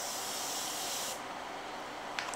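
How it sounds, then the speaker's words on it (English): A Morphe makeup setting spray hisses in a steady, close fine mist for about a second, then fades to a softer airy hiss with a faint click near the end; no one speaks. "let me just use my Morphe setting spray"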